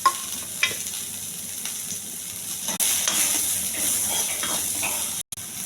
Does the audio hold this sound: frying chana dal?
yes